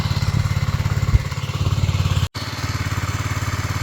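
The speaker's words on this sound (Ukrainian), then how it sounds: "Оце зараз я з вами балакаю і оце так тихенько працює двигун." Suzuki Djebel 200 motorcycle idling quietly after a kickstart with the choke on, a steady close-up single-cylinder putter with an even low thump that barely breaks for a moment.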